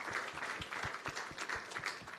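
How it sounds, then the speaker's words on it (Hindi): Audience applause welcoming a guest onto the stage at a televised Hindi news award event, a steady wash of clapping with soft crowd noise throughout, fairly distant. "तालियों से स्वागत करिए"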